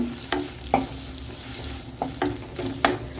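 Pirandai (adamant creeper) sautéing in a pan for chutney, a soft low sizzle broken by about six sharp spatula scrapes and knocks at an uneven pace, close and without speech.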